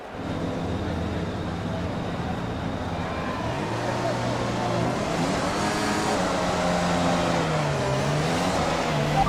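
Formula 1 car engine in F1 2021 at the Saudi Arabian Grand Prix, a steady motor drone that climbs and shifts pitch through the gears as it revs up, with a voice talking over it.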